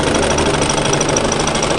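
Sewing machine running steadily to stitch bias binding onto a camisole, a continuous close mechanical whir with a fast needle rhythm, loud and uninterrupted throughout.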